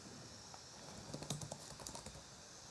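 Quiet computer keyboard typing while code is entered, a short burst of uneven keystrokes clustered mid-way over a faint steady background hum, no voices.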